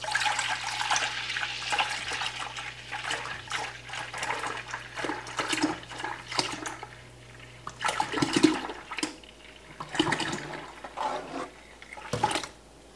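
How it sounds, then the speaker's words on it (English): Milk pours into a tall pot on a stovetop for making mozzarella, a continuous close splashing and gurgling stream with a few pauses and fresh surges, no voices. "I'm gonna start putting our milk in."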